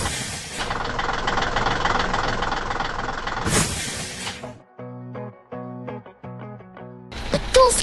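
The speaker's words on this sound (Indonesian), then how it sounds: "Dengar suara mesin itu? Truk semen biru datang melintasi jembatan kayu" A blue cement truck's heavy engine in a 3D animation rumbles steadily and loudly, then cuts to sparse knocking and tonal clanks before the engine noise returns.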